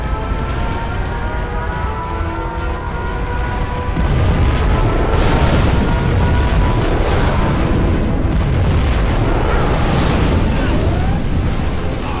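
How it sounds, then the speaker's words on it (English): A nuclear missile explosion in the real-time strategy game Generals rolls out as a deep, sustained rumbling roar that thickens partway through and keeps going loudly, with a voice speaking over the blast. "We have launched our nuclear missile."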